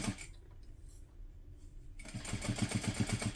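A sewing machine stitching a large Apothecary tote bag is quiet at first, then runs in a fast, even rhythmic clatter of stitches for the last half of the clip, close and clear.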